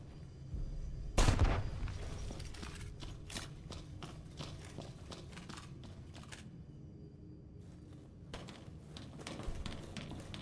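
Gunshots in the video game Left Alive crack out as one loud blast followed by a rapid series of sharp shots, then a quieter stretch before another burst near the end.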